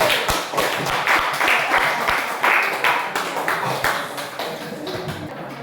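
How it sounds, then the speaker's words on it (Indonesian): Clapping from a classroom of students applauding a student group after a science experiment presentation, brisk and irregular taps forming a steady patter at moderate loudness with voices faintly mixed in. "tepuk tangan untuk kelompok 1"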